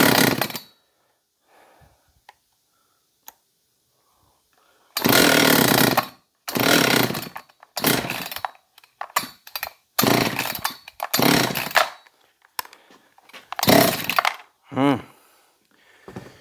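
A John Deere CS56 chainsaw engine sputters to life in repeated short, loud revving bursts separated by brief pauses, catching and dying as it tries to run.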